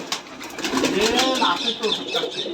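Giribaz pigeons coo softly and close by at a pigeon farm in Rajshahi, with bursts of wing flapping mixed in; faint background chatter runs underneath.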